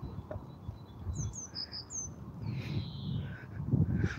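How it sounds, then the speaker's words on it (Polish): Birds sing at a pond lake, with thin high chirps and whistled calls at moderate distance over a low rumble of wind and outdoor background. "Słychać tutaj w ogóle ptaki."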